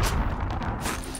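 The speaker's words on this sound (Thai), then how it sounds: "ระเบิดดังตุ้มตามจริง" A bomb goes off in a shooter video game, a loud, dense boom with a rumbling low end that fills the whole short moment, close and heavy, with no talk over it.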